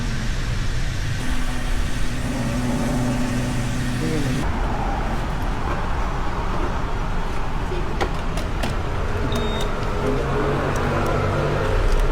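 A motorcycle engine hums steadily, with traffic-like roadway noise throughout and a few brief sharper sounds toward the end, after refueling.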